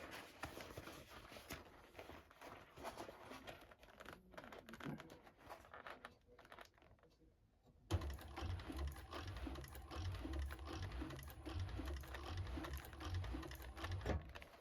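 A sewing machine stitches a tote bag in fast rhythmic bursts, quieter and broken at first, then running steadily and louder after a short pause.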